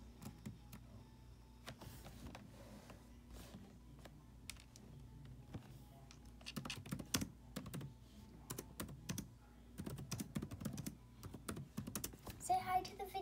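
Computer keyboard keys pressed in quick irregular bursts during a Roblox game session, close and clicky, with some faint background noise and no talk over them.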